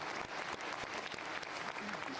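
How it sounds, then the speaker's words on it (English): A large audience at a televised year-end press event with Putin breaks into full, sustained applause, a thick wash of clapping that stays loud and even throughout. "Let's give a round of applause to a hero of Russia."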